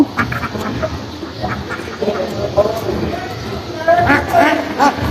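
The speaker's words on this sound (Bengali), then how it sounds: "হাঁসগুলো মনে করছে আমরা খাবার দিতে আসছি যেন আমাদের কাছে চলে আসছে" Ducks at a pond quack repeatedly nearby in short bursts, mixed with people talking over them.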